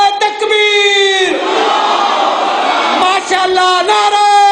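Large crowd at a religious gathering for Eid-e-Norouz shouting loud, sustained chanted responses to slogans, a dense roar of many voices that swells, dips briefly and rises again.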